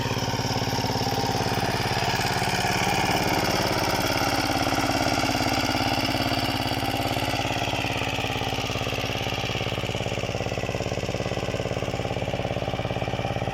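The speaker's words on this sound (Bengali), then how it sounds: "একটি পাওয়ার টিলার এটি হচ্ছে ইন্ডিয়ান একটি পাওয়ার টিলার" An Indian-made power tiller engine chugs steadily at a constant idle, loud and close, its rough mechanical drone unbroken throughout.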